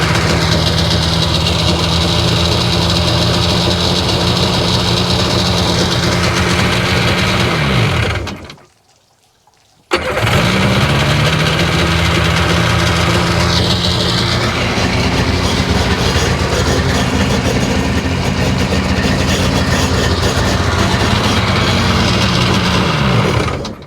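A Sea-Doo RFI 787 watercraft engine with a hard-start fault runs at a loud, steady idle, cuts out briefly into near silence, then restarts and settles back into the same close, constant drone.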